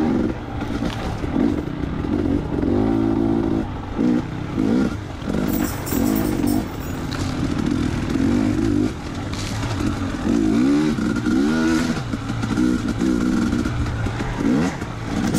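Off-road racing motorcycle engine in a Mag 7 Sandy Clam GP sim race, revving loudly and continuously with repeated rises and falls in pitch as the throttle works through gears, close and dominant with no talk.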